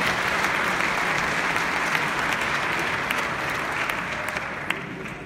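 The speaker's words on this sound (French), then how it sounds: "Je vous demande d'applaudir cette initiative" An audience at a Rotary Day event at UNESCO applauds loudly and continuously, a thick, close burst of clapping that fades only slightly toward the end.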